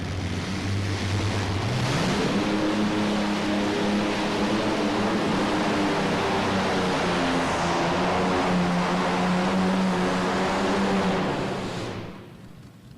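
A fuel-injected 1,710 cubic inch WWII P-38 aircraft engine with six cylinders per side runs at a farm machinery show, a loud steady roaring drone that climbs in pitch early, holds for about ten seconds, then fades as it winds down.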